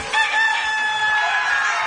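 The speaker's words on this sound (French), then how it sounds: "Le coq a chanté." A rooster crows once, close and loud, in a single drawn-out cock-a-doodle-doo lasting under two seconds during a televised game show.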